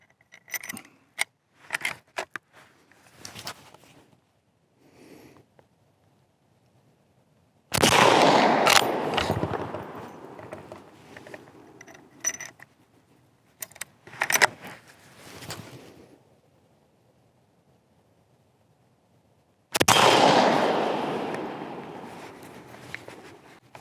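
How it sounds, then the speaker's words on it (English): Savage Model 1899 rifle fired outdoors at a 50-yard target: two loud, sharp shots with ringing decay about twelve seconds apart, between bursts of metallic clicks and handling noise from the action. "we'll toss these down and we'll shoot at that 50-yard target again"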